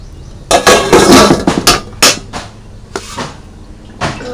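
Roasted whole cumin seeds are crushed into powder, heard as a series of sharp, close pounding and grinding knocks with irregular spacing, loud and alone, with brief scraping in between.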